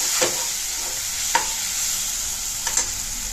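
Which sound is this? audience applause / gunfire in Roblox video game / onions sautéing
onions sautéing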